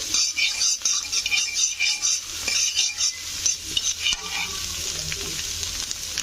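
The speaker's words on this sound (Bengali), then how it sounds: "তো পেঁয়াজটাকে কিন্তু ডিমের সঙ্গে ভেজে নিতে হবে।" Onion fries with egg in a pan for egg fried rice, a constant sizzle under rhythmic scraping and clinking of a utensil against the pan, close and fairly loud.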